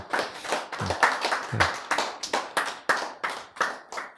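A small group claps in short separate bursts, each sharp volley of hands fading quickly before the next, close and fairly loud in a quiet room.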